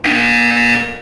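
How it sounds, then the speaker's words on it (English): A single loud, flat electronic buzzer tone sounds in the video game Portal 2, holding steady for about a second before fading slightly at the end. "When you hear the buzzer, look up at the ceiling."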